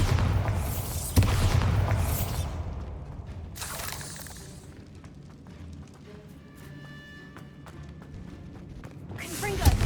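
A blasting spell explosion in Hogwarts Legacy sounds as a loud boom and shattering crash at the start, then a rumbling tail fading into quieter ambience, with a voice speaking briefly.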